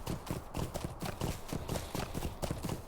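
Horse hooves clip-clop in a fast, steady rhythm during swift travel in the LOTRO (Lord of the Rings Online) video game, continuous and even with no voices.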